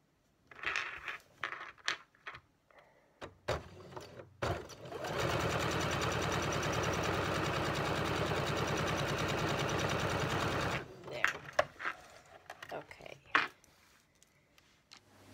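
A sewing machine stitches quilt block pieces for a disappearing nine patch quilt, running in a steady, loud buzzing burst of about six seconds, framed by scattered clicks, taps and handling sounds of fabric before and after.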